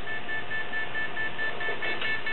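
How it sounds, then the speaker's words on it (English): A steady electronic alarm tone from a Quantum Sniffer QS-H150 portable explosives detector, signalling RDX during a vehicle inspection, repeats in short, evenly spaced beeps over a low background hum, with a slight rustle near the end. "And we got an alarm for RDX."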